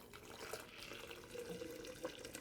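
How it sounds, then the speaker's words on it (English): Boiling water poured into a cup to steep loose-leaf tea, a close, soft, continuous trickling splash that runs for a couple of seconds with no talking. "And then it says to add 1 cup of boiling water."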